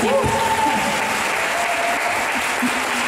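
Brief burst of audience applause in a church during an Advent concert in Kecskemét, steady and dense for about three seconds, fairly loud and close.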